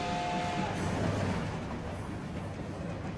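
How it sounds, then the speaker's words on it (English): A train rolls past in the Fullmetal Alchemist: Brotherhood anime, a continuous rumbling rush of rail noise with a brief tonal whistle-like note at the start, moderately loud and steady, no talk. "He's trying to get on the train as it comes past"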